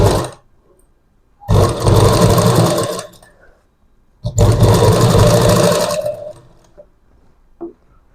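A sewing machine stitches the neckline of a work blouse in two loud, sustained whirring bursts, each a second or more long, separated by quiet pauses, with a brief click near the end.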